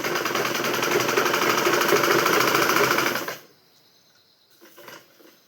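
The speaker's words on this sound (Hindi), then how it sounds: "सिलाई करने के लिए मेरे को ऐसा करना पड़ेगा, ऐसे यहाँ से एक पार्ट उल्टा एक पार्ट सुलटा करके मैं ऐसे सिलाई यहाँ से शुरू करूँगी।" A sewing machine stitches palazzo pants with a loud, steady close whir for about three seconds, then stops, leaving faint handling clicks.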